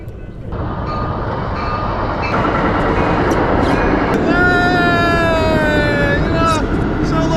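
A train passes near a Delta fishing spot with a loud, sustained roar of rolling wheels, and a horn sounds partway through, holding its tone for a few seconds over the rumble.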